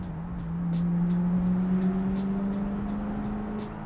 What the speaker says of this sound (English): It's a pretty torquey motor